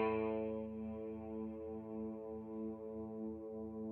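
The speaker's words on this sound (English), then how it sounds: "I have a freeze function built into the reverb" A guitar through the reverb freeze function of a NUX Trident pedal, a bright chord decaying into a steady, frozen wash of harmonics that sustains evenly and alone for several seconds.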